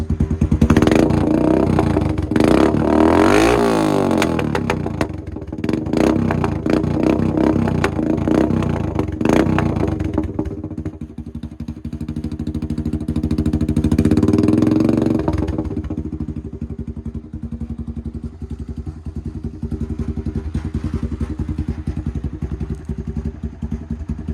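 A loud, rough quad engine with a modified black exhaust idles and revs with a throaty, uneven note between a motorcycle and a two-stroke diesel, rising and falling twice, with occasional clattering thumps nearby.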